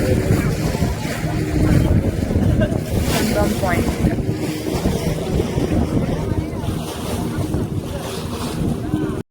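A boat pounds through rough sea off Devbag beach amid steady roaring wind and wave noise, loud and continuous, with voices partly buried beneath.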